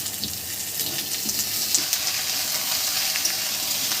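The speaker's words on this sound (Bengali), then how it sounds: "এবার দিচ্ছি আলুটা হালকা ভাজবো, বেশি ভাজবো না" Potatoes fry lightly in hot oil in a pan with garlic paste, giving a steady close hiss and sizzle that carries on unbroken throughout.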